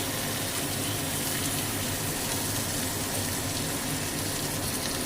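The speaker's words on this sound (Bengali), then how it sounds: "একটুখানি জল দিচ্ছি, এই যে খুন্তি ধোয়া জল" Water splashes into a cooking pan while a spatula is rinsed, a steady gushing pour that holds even for several seconds.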